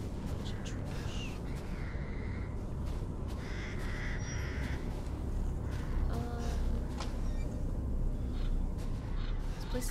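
Crows caw repeatedly in the video game Resident Evil Village, harsh calls scattered over a steady low ambient rumble of a run-down outdoor setting.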